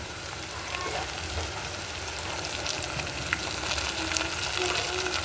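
Onions frying in a pan with a spoon of ginger-garlic paste, a steady close sizzle with occasional stirring crackles, no talking.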